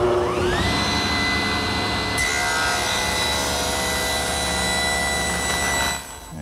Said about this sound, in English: So I've set up my table saw with what's known as a thin kerf saw blade.